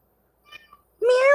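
A cat meows loudly and close by, a single rising drawn-out call that follows a few faint soft sounds.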